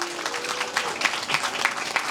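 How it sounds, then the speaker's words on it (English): Audience at a Tibetan Kongpo Losar celebration in San Francisco applauding a performance, a dense, steady wash of many hands clapping at moderate distance, continuous for the whole stretch with a few louder individual claps standing out. "Let's give them another round of applause."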